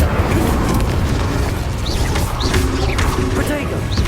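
A fiery Incendio spell cast in Hogwarts Legacy, a loud, dense roaring burst with crashing impacts and whooshing flares over constant game noise, with a voice heard alongside.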